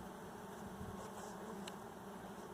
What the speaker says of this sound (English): But this is a good amount of bees.